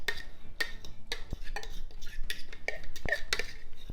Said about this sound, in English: So all of our chopped herbs and garlic, we're just gonna put that in a bowl.